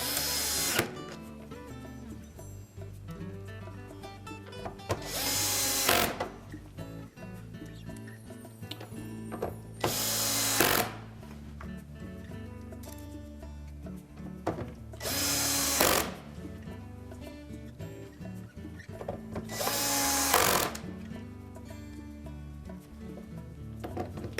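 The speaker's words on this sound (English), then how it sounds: "Press it down into place and then reinstall the screws." Power drill driving screws back into the outer door panel of a Whirlpool washer, five short loud whirring bursts spaced several seconds apart, with quiet handling noises between them.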